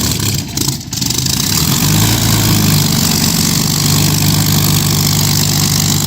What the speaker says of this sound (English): the Rolls-Royce Merlin engine is perhaps the best sounding internal combustion engine ever